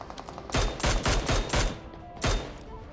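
Rapid gunfire bursts from a PUBG solo first-person match: five or six loud, punchy volleys in quick succession, then a pause and one final burst, with no talk.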